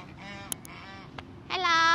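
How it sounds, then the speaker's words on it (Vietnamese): Geese kept as guard animals in a Celadon City park in Tân Phú give a couple of short honks, then a louder, sustained nasal honking call at the end. "mấy anh ngỗng này là cũng như chó giữ nhà đó"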